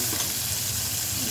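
Onion paste frying in hot oil makes a steady, even sizzle and hiss close up, continuous and unbroken, with no voices.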